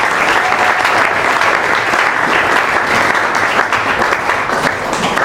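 A church congregation at Église Antioche applauds and cheers the Lord in a loud, steady roar of dense clapping that holds without a break throughout.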